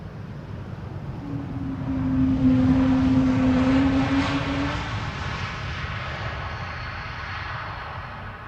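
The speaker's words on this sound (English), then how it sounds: "E2 Embraer landing." Embraer E2 jet landing at Schiphol airport, its engine roar swelling from a distance to a steady rumble with a whining tone, then fading as it passes.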